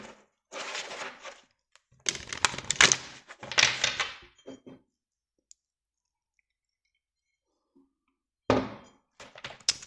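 Tarot cards shuffled by hand in several brisk riffling bursts, close and fairly loud, with gaps of quiet between them.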